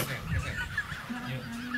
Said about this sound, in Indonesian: ada big sound bebek lagi